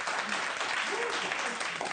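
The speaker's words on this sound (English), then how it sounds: "Some wild applause for the junkie" A studio audience breaks into brief, wild applause, a dense burst of clapping and hoots that fills the whole moment.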